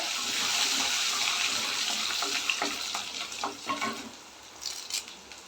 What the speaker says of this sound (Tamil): கொஞ்சம் நல்லா ஆயிலே ஃப்ரை பண்ணிக்கலாம் இது கூட பூண்டு சேர்த்துக்கோங்க